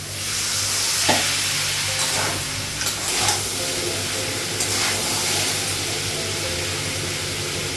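Soybean and potato curry sizzles steadily in a hot pan after a splash of water, with a constant frying hiss, a few brief stirring scrapes and bursts of steam, and no voices.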